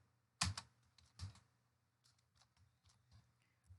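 Code being typed on a computer keyboard, two louder clacks followed by a run of faint, irregular key taps, close and quiet.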